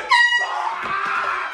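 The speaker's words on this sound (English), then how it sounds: "Did he just get a concussion from an air horn?" A loud, close air horn blast with strong harmonic tones, starting sharply and then trailing off into mixed noise, heard in a comedy sketch.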